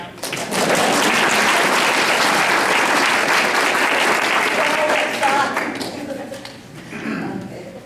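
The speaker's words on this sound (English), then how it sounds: "Okay, you can clap now." Applause from an audience at a county candidates forum swells quickly and holds loud and dense for about six seconds, then thins and fades, with a few voices mixing in near the end.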